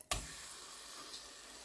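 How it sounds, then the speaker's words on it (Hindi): Minced meat (keema) hitting a little hot oil in a pan gives a sharp onset, then a steady, close hiss of sizzling for under two seconds with no talking. "ऑयल के अंदर मैं डाल दूंगी कीमा"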